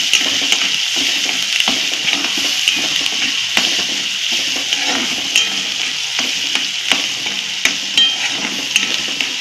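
Chilli powder roasting in a pan for a matar and soya chunks masala sabji, with a steady close sizzle and frequent scraping stirs throughout. No one speaks.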